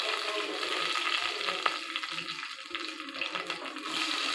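Mustard seeds, curry leaves and green chillies fry in oil inside a pressure cooker, giving a soft, steady sizzle with faint crackles and stirring, heard quietly and close with no talk over it.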